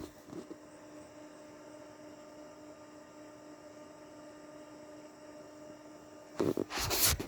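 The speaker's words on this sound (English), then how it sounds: "That's a converter fan, not an inverter." Steady low electrical hum of a small computer-style converter fan inside an RV, faint and constant throughout, followed by a brief burst of louder rustling and clatter near the end.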